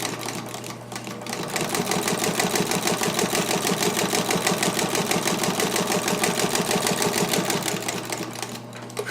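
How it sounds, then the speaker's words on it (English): A Singer 43-7 industrial sewing machine runs a short stitch, a fast, even mechanical chatter of rapid needle strokes that starts, holds steady for several seconds and then slows, close and alone. "So let's do a short stitch and I'll show you what that looks like."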